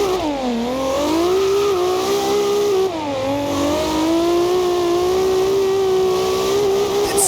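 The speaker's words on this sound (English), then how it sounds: "single turbos sound way better than twin turbochargers, and this Supra is no exception" Single turbo Toyota Supra engine in the Forza Horizon 2 racing game, a loud sustained engine note rising and falling through gear changes, with a brief dip mid-run before climbing steadily again.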